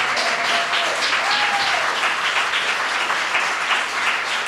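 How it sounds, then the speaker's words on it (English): Audience applause for actors at a university Constitution Day election event, a dense, sustained round of clapping from a sizable crowd, even and loud throughout, with a faint whistle-like tone early on. "Could you give the actors a round of applause for their work this evening?"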